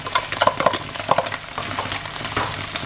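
Black beans, mashed and whole, scraped into a hot pan, giving a steady close sizzle mixed with quick scraping strokes of a utensil, busy and continuous.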